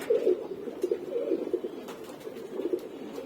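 Brown Australian doves give soft, low, repeated coos at close range, each a rounded throaty call in an uneven rhythm, with faint clicks behind.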